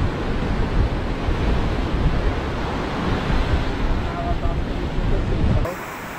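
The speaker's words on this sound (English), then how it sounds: "Yes, it's a beautiful beach." Waves break steadily on a beach in Natal, Brazil, a loud continuous roar of surf with wind noise buffeting the microphone, cutting off abruptly near the end.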